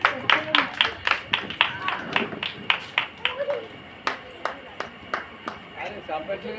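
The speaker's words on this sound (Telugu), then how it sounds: "చప్పట్లు కొడదాం, మంచి వాళ్ళని ఎంకరేజ్ చేద్దాం." Audience at a couples' gathering clapping in short, uneven bursts, individual claps sharp and close with a scattered, rhythmic feel and brief gaps between bursts.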